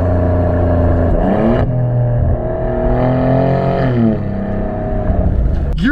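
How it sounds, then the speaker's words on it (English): A 2023 Maserati GranTurismo engine revs and blips through quick downshifts, pitch rising and falling in steady surges, loud and close with no talking. "And just the sound that it makes when you downshift, you absolutely gotta love that."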